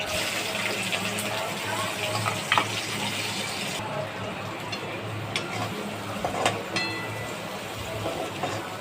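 Cumin and finely chopped onion fry in hot oil in a kadai for Maharashtrian ghevda bhaji, a steady close sizzle with a few sharp clicks and pops scattered through.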